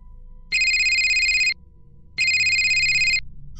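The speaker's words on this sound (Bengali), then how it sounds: "ঠিক সেই সময় অদিতির ফোনে একটা ফোন আসে" A phone ringtone sounds in a Bengali audio story, two loud electronic rings of about a second each separated by a short pause.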